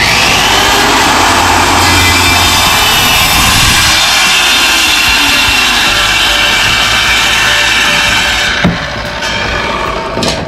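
A Stanley SC16 1600W 184mm circular saw cuts through wood with a loud, steady high-pitched whine that runs for about nine seconds, then drops away abruptly near the end, leaving a quieter tail.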